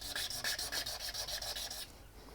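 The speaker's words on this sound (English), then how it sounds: "we're just going to give it a dry rub with some 1200 wet and dry" Steady rhythmic rubbing of 1200 grit wet and dry sandpaper polishing a flat face of a Hitachi alternator part, close and fairly quiet, strokes about four per second before easing off.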